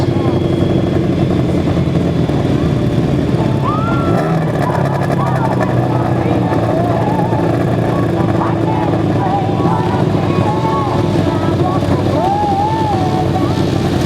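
Sidecar motorcycle outfits racing on a grass track at a match race meeting, engines droning steadily and loudly throughout with revving swells, while a commentator talks over the noise.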